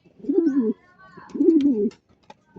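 Racing pigeons at the seaside give two close, throaty coos in quick succession, each a warbling rolling call, followed by a few faint clicks.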